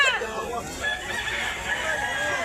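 A rooster, a bull stag fighting cock at a Cebu market, crows over a busy outdoor background, with other fowl clucking nearby and a voice faintly audible.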